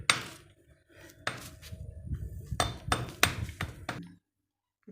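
Dry ginger (sukku) pounded for a village-style Tamil herbal curry: a series of sharp, hard knocks, several in quick succession with a few louder blows, close and clear with no talking.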